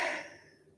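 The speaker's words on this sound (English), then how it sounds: "That's why I'm yawning." A single close, breathy yawn from a woman during an evening craft session, starting loud and trailing off into a soft drawn-out exhale, with no talking.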